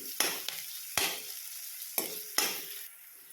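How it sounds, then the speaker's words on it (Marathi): Chopped onion sautés in oil over a low flame with a soft, steady sizzle, broken by four scraping strokes of a spoon stirring the pan at uneven intervals. "बारीक गॅस ठेवून या प्रकारे हा कांदा छान असं मी तेलामध्ये परतून घेणार आहे मऊ होईस तोपर्यंत"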